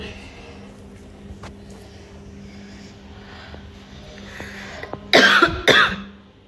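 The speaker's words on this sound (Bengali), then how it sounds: "আমার কাশি হইতাছে" Two sharp, loud coughs near the end, following a stretch of faint background hum and low murmuring.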